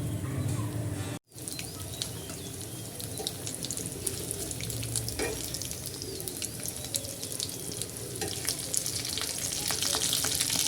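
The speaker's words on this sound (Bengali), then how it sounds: "কম তেলে চপটা ভাজা হয়ে যাবে" Potato chops frying in a little oil, a steady dense crackle of small pops that runs the whole time, briefly cutting out near the start, with no talk.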